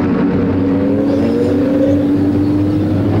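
Mini stock race cars at Flamboro Speedway roar away at the green flag, a loud, continuous blend of engines revving together, with rising tones layered over a heavy low drone.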